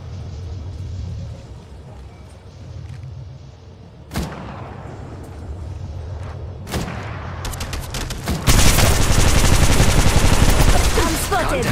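Gunfire in Apex Legends Mobile, scattered shots over a rumbling background that swell into a loud, sustained stream of automatic fire toward the end.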